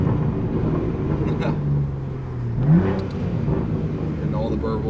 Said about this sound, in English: So this is all just raw S58 sound that you get right out the box when you buy our exhaust.